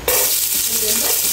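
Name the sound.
sautéing garlic in a pan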